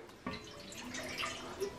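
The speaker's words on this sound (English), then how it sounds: "You're gonna pour water in it." Water poured into a larger baking pan for a flan water bath makes a soft, close trickle and splash with a few small drips, fairly faint.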